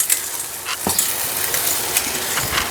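Wheat flour porridge being stirred in a pan over a fast gas flame, with continuous scraping and sizzling, occasional louder strokes, close by and steady.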